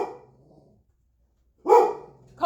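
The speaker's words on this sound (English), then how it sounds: "No barking." A pet dog barks twice, each a short close loud bark with a yippy edge, separated by a quiet pause indoors.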